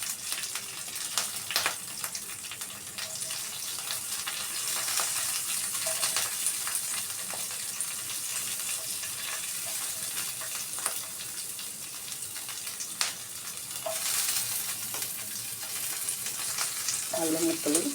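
Green chillies fry and sizzle steadily in hot oil in a pan while making stuffed brinjal, a continuous crackling hiss with occasional stirring clinks and scrapes throughout.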